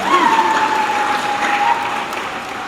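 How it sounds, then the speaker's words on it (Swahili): A church congregation at a Catholic Mass claps steadily and loudly in a dense, rain-like wash, while a single sustained high cry glides above it. "Mpigeni Mungu makofi na vigelegele."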